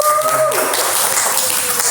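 A studio audience at an Indonesian talk show breaks into applause, a dense, steady wash of clapping that swells in after a brief tone and holds for the rest of the moment.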